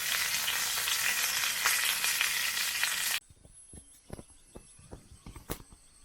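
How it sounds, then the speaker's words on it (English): A ribeye steak frying for dinner at a wild campsite on Tasik Kenyir: steady loud sizzling for about three seconds, then it cuts to quiet with scattered light clicks and knocks. "This is a ribeye steak for dinner."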